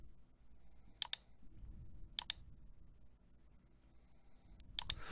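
Sharp mouse clicks, mostly in quick pairs, at roughly one-second intervals while settings are adjusted in vMix software, close and crisp over a quiet low room hum.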